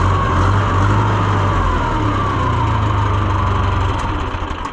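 A John Deere 2020 tractor engine runs steadily after a new high-torque starter, a loud close diesel idle with a low pulsing rumble throughout, easing slightly near the end.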